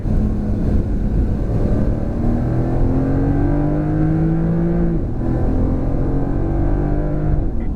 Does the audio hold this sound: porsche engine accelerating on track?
yes